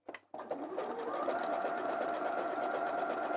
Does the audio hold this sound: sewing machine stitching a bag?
yes